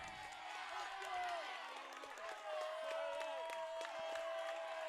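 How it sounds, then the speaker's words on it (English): Crowd at the finish line of a girls' cross country race between Milton Academy and Groton, a distant murmur of cheering and clapping carrying under close commentary voices. "You could hear the crowds going"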